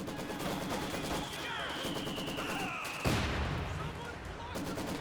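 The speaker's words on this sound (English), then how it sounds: "Contact! Small arms fire!" Small arms gunfire in a video game battle: rapid, rattling volleys of shots continue throughout, with a sharper, louder report midway, heard near and alone.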